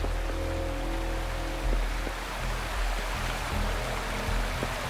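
Steady broadband rush of a waterfall in Wuthering Waves, continuous and fairly loud, with faint tonal music underneath.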